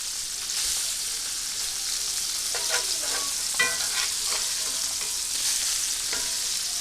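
Salmon fillets blackening in a hot pan hiss with a continuous, close, dense sizzle, with a few faint utensil touches partway through and no talking.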